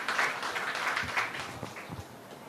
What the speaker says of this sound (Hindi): विष्णुदेव साय जी के लिए एक जोरदार तालियां